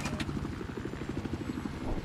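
Video game helicopter rotor thumping in a fast, steady pulse, moderately quiet and somewhat distant, continuing throughout, in Battlefield 4.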